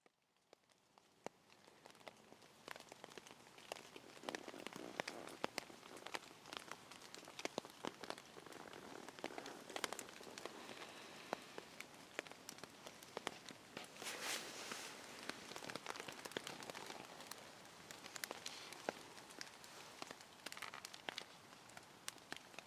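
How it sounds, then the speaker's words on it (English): Steady rain patters on an improvised oak-framed tarp shelter in a winter woodland at night, a dense continuous hiss of drops with scattered sharper taps close overhead, heard alone. "it's been raining now for, I would say, quite a lot"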